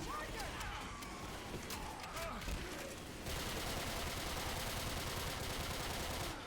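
Machine gun fire in Left 4 Dead, with scattered shots followed by a sustained rapid burst of automatic fire that runs steadily to the end. Game sounds and voices mix in underneath.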